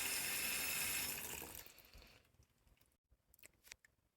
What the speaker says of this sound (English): washing the kale.